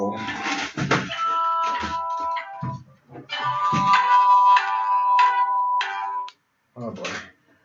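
A business mobile phone rings unexpectedly during a live stream, its tonal electronic ringtone melody repeating in bursts while someone talks over and between the rings.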